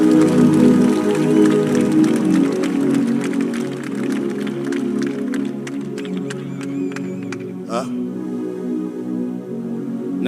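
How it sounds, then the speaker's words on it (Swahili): Congregation in a church gathering clapping for Jesus, dense sustained applause from a crowd that thins out toward the end with scattered claps. "Mtampe Yesu makofi mazuri."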